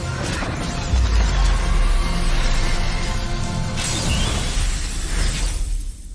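Glass shattering in a VR strategy game, a loud crash of breaking glass followed by tinkling debris and a second burst of shards, ending abruptly.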